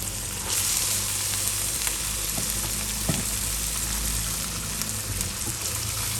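Mama instant noodles stir-fried with holy basil leaves and oyster sauce sizzle steadily in a hot pan, a constant frying hiss with occasional scrape of stirring, close and alone without talk.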